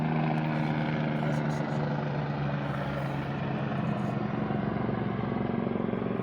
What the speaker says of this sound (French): c'est peut-être un hélicoptère vu le bordel que ça fout